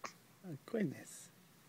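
A baby makes small vocal hiccup-like sounds, a few short bursts close to the microphone, with no other voices.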